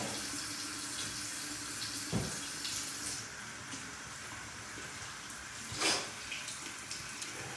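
Water runs steadily from a tap into a bathroom sink during face washing, a continuous close rushing flow with a couple of brief splashes and no talking.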